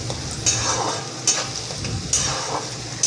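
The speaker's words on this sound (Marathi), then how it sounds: "वाटाणे तेलामध्ये छान तळून निघतात" Green peas and potatoes fry in oil in a pan with a bright sizzle, punctuated by a few sharp spatula scrapes as the mixture is stirred; close and loud, with no voices.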